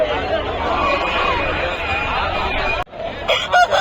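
A rooster at the Pileru chicken market crows loudly amid a babble of market voices and clucking, and the sound cuts off sharply near the end before chatter resumes.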